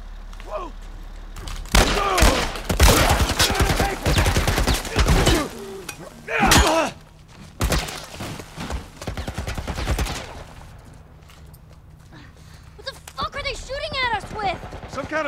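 A military turret in The Last of Us fires loud, rapid bursts of automatic gunfire, with clusters of sharp shots separated by short pauses, and a few lighter clicks and rattles near the end.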